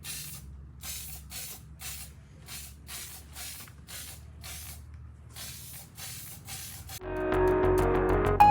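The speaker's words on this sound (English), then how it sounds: "let's get this thing sprayed" An aerosol spray paint can hisses in about a dozen short bursts while painting truck axles, each a sharp, airy, wide spray, before louder, harsher noise takes over at the end.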